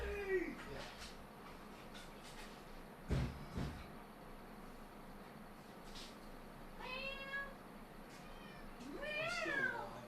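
A house cat meows several times in short, rising and falling calls, close and clear, with brief knocks or a cupboard-like bump between them and some quiet indoor background.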